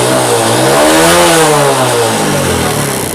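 A nearby Honda CD70 motorcycle engine starts and revs up, its pitch climbing and then falling back, loud and unbroken throughout.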